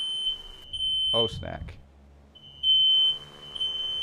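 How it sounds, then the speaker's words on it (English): A smoke alarm sounds in a room. It gives a shrill, steady high tone that stops and then starts again, and it is loud and clear. A voice speaks briefly in the gap between the tones. "Got a fire alarm on."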